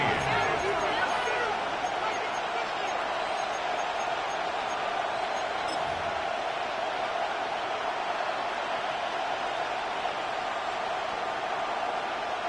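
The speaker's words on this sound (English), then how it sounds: "The crowd cranking it up another notch before 3rd and long" A football stadium crowd in the fourth quarter before a third-and-long play, a loud, sustained roar of many voices holding steady under commentary.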